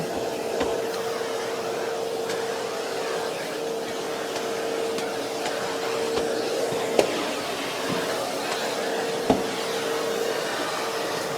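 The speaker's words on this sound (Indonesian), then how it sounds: "Kita vakum." A vacuum cleaner running steadily while cleaning a room, including under a table; a constant droning whine with a few brief knocks and bumps, close and even in volume.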